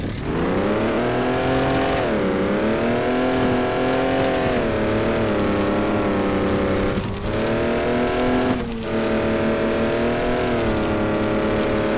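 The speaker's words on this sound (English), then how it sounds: "If I can get this truck to move." A truck engine in a video game strains to pull a trailer, giving a loud, continuous droning rev whose pitch dips and climbs again, with no talk over it.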